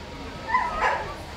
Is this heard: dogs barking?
yes